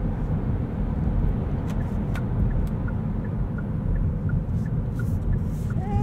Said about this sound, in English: you can hold that left paddle for max regen and come down from speed.